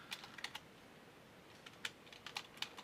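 Quick, light keystrokes on a computer keyboard, clicking in short irregular bursts with pauses between them, close and fairly quiet with no talking.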